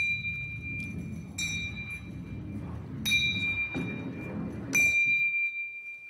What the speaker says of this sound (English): So we should hear the bells ringing at equal intervals in time.